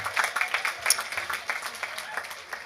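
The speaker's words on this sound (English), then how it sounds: "Yes, give them an applause." At a graduation ceremony, an audience claps for a band: a brief scattered round of applause with individual sharp claps, moderately close, with a voice speaking over it.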